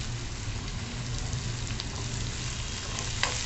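Oil sizzles steadily in a pan as curry leaves and turmeric fry, a constant crackling hiss with no talking.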